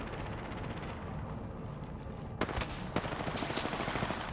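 Enemy gunfire in Apex Legends, a few sharp cracks and short bursts at mid distance over a constant rumbling game background, with no talk.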